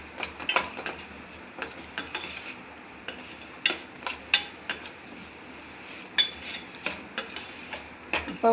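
Ginger garlic paste sautés in a pan with onions for a Tamil brinjal sabji, a spatula scraping and clinking against the pan in steady irregular strokes over a low, continuous sizzle.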